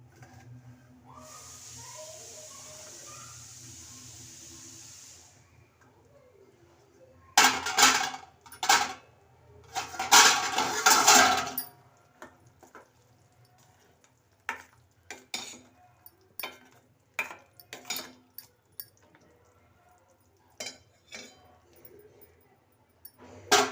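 Okra goes into a pot of boiling tamarind curry with a hiss and simmer, followed by loud clanks of a metal spoon against the pot and scattered stirring clatters, close and uneven.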